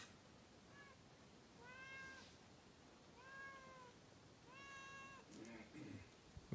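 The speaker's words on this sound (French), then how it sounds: "Là j'entends un chat." Cat meowing outdoors on a parking lot near Maya ruins, four drawn-out meows spaced a second or so apart, faint and somewhat distant over ambient noise.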